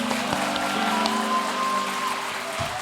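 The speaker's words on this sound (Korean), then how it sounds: "큰 박수로 축복해 주겠습니다." Wedding guests give loud, steady applause for the bride and groom as they walk the recessional at a church wedding service, a dense rain-like patter of many hands clapping throughout.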